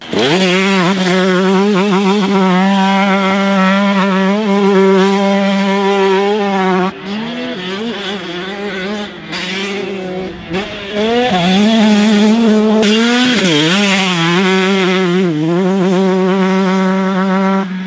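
A 2021 Gas Gas MC125 two-stroke motocross bike races past with a loud, buzzing engine rising and falling through gear changes and revs, close and sustained.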